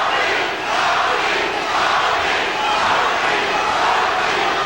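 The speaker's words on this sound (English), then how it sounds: "The crowd chanting for Tommy Hearns." A boxing arena crowd chants for Tommy Hearns during the ninth round of a WBA light heavyweight title fight against Iran Barkley, a loud, steady, rhythmic roar filling the hall.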